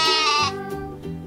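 A goat bleats in a short clip with a triceratops, giving one loud, close, wavering cry that breaks into a quieter, trembling second bleat.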